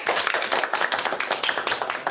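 Brief, sparse clapping from a small academic seminar audience on algebraic methods, a few people patting hands in an uneven patter close by.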